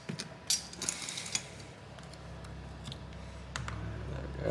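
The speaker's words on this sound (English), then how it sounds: "Hopefully with those screws out, I should now be able to pry this open." Plastic casing of an HTC One X9 phone being pried open, a cluster of sharp clicks and creaks near the start, then faint scattered clicks over a low hum, close and quiet.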